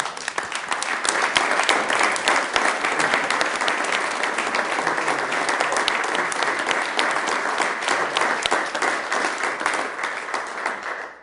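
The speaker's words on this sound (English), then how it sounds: "let's give Jean a round of applause." Audience applause fills a council meeting chamber in Sioux Falls, a steady, dense clapping from many hands that holds at an even loudness for the whole stretch with no talk over it.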